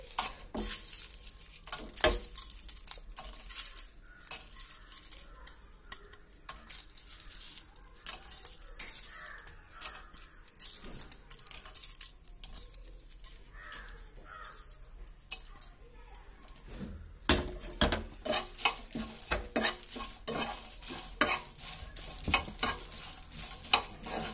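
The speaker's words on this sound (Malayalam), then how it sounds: "നമുക്ക് അതിലേക്ക് ഈ മുളക് ഒന്ന് വറുത്തെടുക്കാം കേട്ടോ" Red chilies dry-roasting in a pan with continual stirring: repeated scraping and rattling of the chilies against the pan, crackling on and on, busier toward the end.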